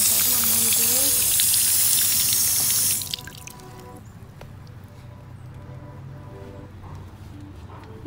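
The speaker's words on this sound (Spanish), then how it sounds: "por una manguera para regarla profundamente. Ay, se me está yendo el agua." Water rushes from a garden hose for deep watering of a transplanted adult peony, a loud broadband gush that stops abruptly after about three seconds, leaving quiet outdoor background.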